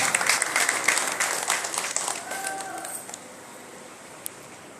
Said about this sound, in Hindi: ताली बजाइए, ताली।